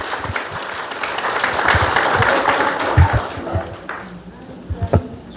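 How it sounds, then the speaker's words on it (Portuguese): Audience applause at a community event in São Pedro das Missões marking the installation of a red bench against violence; a steady mass of clapping that thins toward the end, with voices mixed in. "Salva de palmas, bom evento a nós!"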